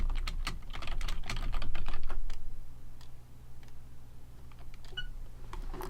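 Quick, close keystrokes clatter on a computer keyboard in a burst of typing, then thin out to a few scattered taps over a low steady hum.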